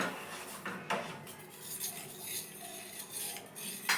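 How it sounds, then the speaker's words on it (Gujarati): Utensil stirring milk in a metal pan, with repeated scraping and clinks of spoon against the pan in an uneven rhythm, close and fairly quiet, with no voices. "આવી રીતે બરાબર મિક્સ કરી લઈએ અને સાથે દૂધને ફેરવી લઈએ"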